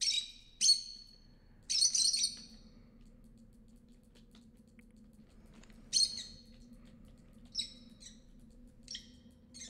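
In the video game Virginia, a bird gives several sharp, bright chirps in scattered bursts over a quiet low hum. A few fainter calls follow later.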